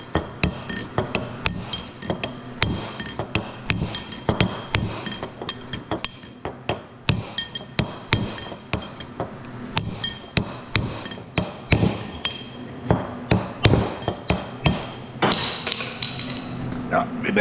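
Repeated hammer blows knock a bearing raceway out of a wheel hub in a workshop beside a turret lathe, sharp metallic strikes landing in uneven bursts, close and loud, with some speech mixed in.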